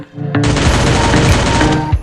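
A rapid, continuous burst of automatic gunfire from a shooting video game rattles loudly for nearly two seconds, ending in a sharp final shot.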